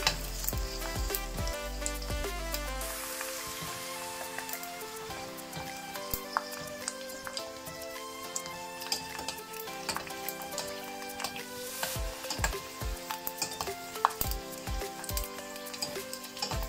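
Pork crackling fries and is stirred in hot oil, giving a continuous dense sizzle with sharp popping crackles and occasional scrapes of stirring, close and steady throughout with no voices.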